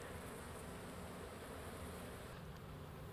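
A honeybee colony gives a faint, steady, dense buzzing hum that fills the whole stretch without pause, with no voices.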